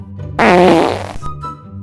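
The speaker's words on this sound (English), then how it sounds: "I fart to make you smell better." A single loud, buzzing fart lasting nearly a second, close and isolated, followed by quiet.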